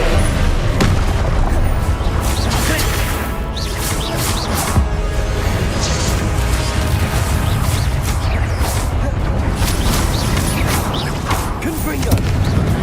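A Confringo blasting spell goes off in a game duel as a loud, sustained booming explosion with dense rumbling crashes that fill the whole stretch, near and heavy, with a few sharper bursts over a low roar.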